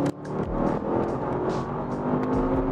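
Audi RS6 Avant V8 of 600 hp accelerating hard on the road, a loud continuous engine roar with rising revs and steady drone throughout, heard from close by without voices.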